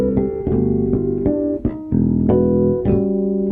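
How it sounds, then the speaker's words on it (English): A solo electric bass guitar plays ringing harmonics in the style of Jaco Pastorius's 1976 'Portrait of Tracy', with a steady series of about seven plucked, bell-like chords that sustain and overlap, close and clear with no voices. "What you just heard was a single player playing a single track of bass guitar with harmonics"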